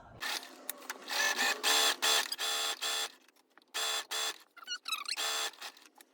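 Sewing machine stitching upholstery fabric for an armchair cover, running in several loud, close bursts of rapid whirring stitches separated by short pauses, the last runs shorter and choppier.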